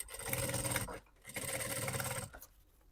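A sewing machine topstitching a seam on a synthetic-material bag panel, two fast whirring stitching bursts of about a second each, close and steady, separated by a brief pause.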